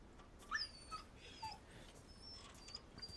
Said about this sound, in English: we hear Huey the dog